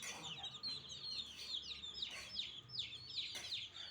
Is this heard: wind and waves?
no